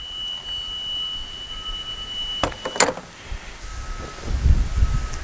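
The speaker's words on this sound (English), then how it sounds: "There's my emergency rear exit alarm, making sure that the door locks into place." A school bus emergency rear exit door alarm gives a steady high buzzing tone, followed by a couple of sharp clunks as the door latches, then low rumbling handling noise.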